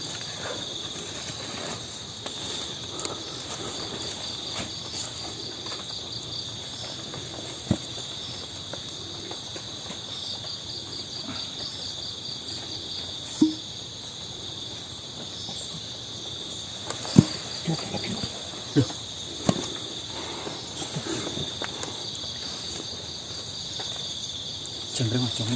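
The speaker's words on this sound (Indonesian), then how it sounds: "Jangkrik Mas, jangkrik Mas." Crickets trill steadily through a hot outdoor setting in Indonesia, a dense continuous high chirping, with faint clicks and distant voices underneath.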